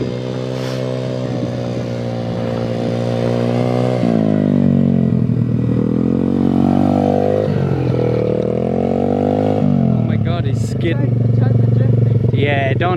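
A Welsh Pit Bike 125cc motorcycle engine hums steadily nearby as it is ridden, its pitch rising and dipping as the throttle and gears change, with voices occasionally audible.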